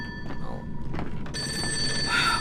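A telephone rings in the horror video game Fatal Frame 5: a bright electronic bell trill that starts partway through and continues steadily over a faint, murky background.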